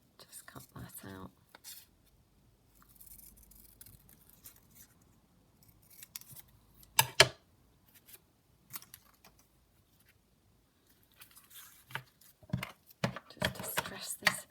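Scissors snip through paper while cutting out a shape for a handmade junk journal, several short crisp cuts spaced apart, close and fairly quiet, with soft talk heard now and then between them.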